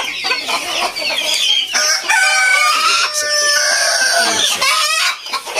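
Ayam Cemani chickens cluck and squawk busily close by, with a rooster crowing through the middle; a dense, continuous barnyard chorus with no talking.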